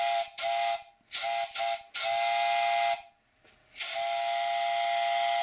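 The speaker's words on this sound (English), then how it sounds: "That's the Chime whistle I'm going to fit to the V6 boiler" A CME Engineering chime steam whistle for a model steam boiler sounds in a workshop, several short hissing blasts in bursts, then one long sustained multi-tone chord, fairly close and clear with no talking.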